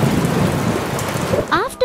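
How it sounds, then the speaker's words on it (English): Steady rain hisses throughout at close range, with a low rumble underneath; near the end a voice briefly calls out over the downpour. "Hey, it's raining!"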